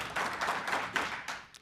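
A small group of people clapping briefly at a live online event, a few scattered claps rather than full applause, fairly faint and close.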